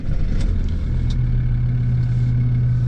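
A worn, high-mileage old car engine runs close and loud right after starting, holding a steady low rumble with a faint tick or two over the top.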